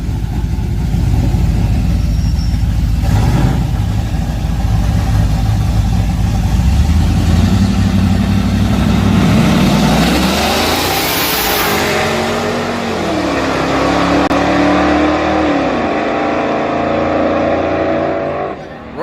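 Two trucks rev hard and accelerate side by side at the Yellow Belly Drag Strip, their loud, close engine roar sweeping up and down in pitch over several gear changes. Spectators talk over the engines throughout.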